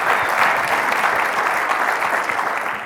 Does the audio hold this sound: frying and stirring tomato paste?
no